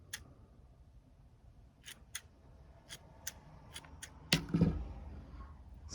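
Sharp snips cut beech tree roots to length during a repot, a string of crisp separate clicks spread over several seconds and ending in a louder snip with rustling, close and quiet, with no talking.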